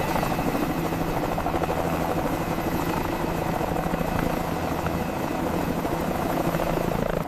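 A Eurocopter Dauphin AS365 N3 helicopter with a Fenestron tail rotor drones loud and steady, a close, continuous rotor and turbine roar with a fine buzzing flutter and no voices.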